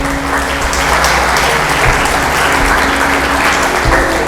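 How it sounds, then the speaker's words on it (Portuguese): A church congregation applauding for sister Noemi, loud, dense and continuous clapping that fills the whole stretch at an even level with no voices on top. "Vamos aplaudir com a irmã Noemi."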